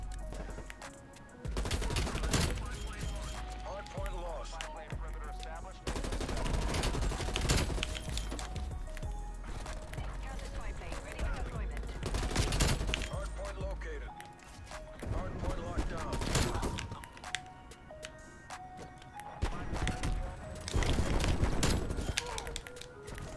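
Rifle gunfire in a video game with tactical rifles: repeated rapid bursts of shots in loud clusters separated by short gaps, mixed with game sounds and speech-like chatter across the whole stretch.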